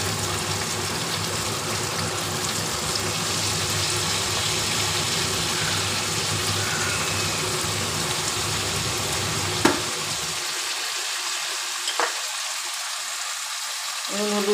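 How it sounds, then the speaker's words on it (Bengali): Chicken pieces frying in hot oil with salt and turmeric in a Bengali home kitchen, a steady broadband sizzle running continuously, with a couple of brief clatters near the end as the sizzle thins out. "চিকেনটা একটু নুন হলুদ দিয়ে বেশ করে ভাজা করে নেব।"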